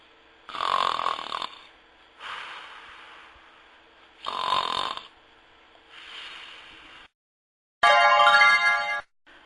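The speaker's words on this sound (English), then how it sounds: "A big dinosaur is snoring into a big balloon with his nose." Cartoonish snoring effect for a sleeping dinosaur: slow, loud, rasping inhale-exhale snores repeating in a steady rhythm, ending with a sharper buzzing snort.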